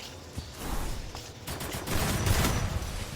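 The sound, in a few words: gunfire in a video game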